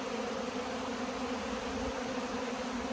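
Honeybees swarm around a farm's beehives, a dense, steady buzzing hum from a couple hundred thousand bees that surrounds the listener up close and continues without a break.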